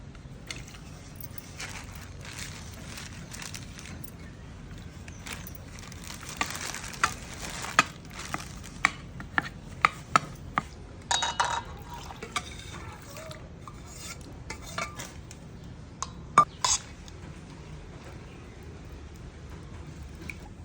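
Jaggery and pickle spices being stirred into oil for traditional Indian mango pickle, soft scraping and clinking of a spoon against the pot with a faint sizzle underneath, close and intermittent.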